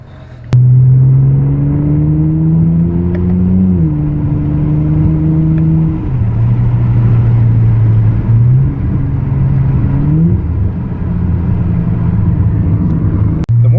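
A 2020 Toyota Supra's engine revs hard and close, its tone climbing and then dropping in sharp steps as paddle-shift downshifts crack through, loud and alone.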